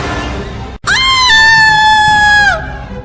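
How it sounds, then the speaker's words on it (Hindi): A woman's sharp, piercing scream as a horror story sound effect, cutting in after a short gap and holding loud and steady for nearly two seconds before trailing off. "लेकिन ऊपर का नजारा देखते ही वो बस एक तीखी आवाज में चीख पड़ी, जिससे वहां का सन्नाटा टूट गया।"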